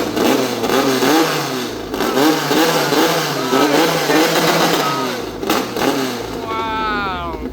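Long-tail racing boat engines at a Thai racing event rev loudly and close, rising and falling in repeated surges, with voices mixed in under the roar.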